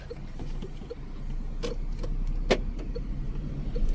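A car pulls away at the start of a driving test in İzmit, with a steady low engine and road rumble throughout and a few faint clicks and ticks inside the cabin.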